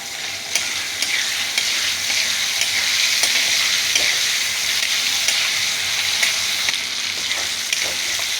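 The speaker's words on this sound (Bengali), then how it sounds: "অল্প একটু ভেজে দিচ্ছি।" Shrimp frying lightly in a pan for a curry with taro, a loud steady sizzle with occasional crackles and stirring clicks, continuing without any talk.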